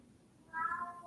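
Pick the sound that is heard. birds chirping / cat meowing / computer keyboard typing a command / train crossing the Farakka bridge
cat meowing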